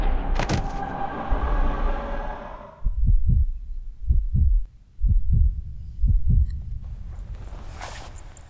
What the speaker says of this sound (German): Kommen die denn an meinen Herzschlag?